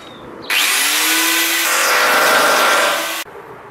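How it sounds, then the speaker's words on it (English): An angle grinder cuts corrugated iron for a planter box insert, a loud piercing whine that starts abruptly, holds steady for nearly three seconds, then cuts off sharply. "I'll just run the grinder up here and cut this"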